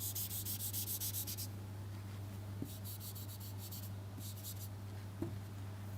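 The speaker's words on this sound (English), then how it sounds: "let me just erase this." Writing on a board being erased, a soft dry rubbing that comes in a few short bursts at a low level over a constant background hum, with no voice.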